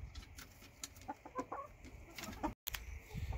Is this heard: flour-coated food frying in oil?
no